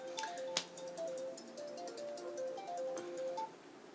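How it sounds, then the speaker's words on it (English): A phone ringtone plays faintly at a distance in a quiet room, a short melodic tune of repeating tones with a brief sharp click near the start. "okay, so phone keeps ringing today."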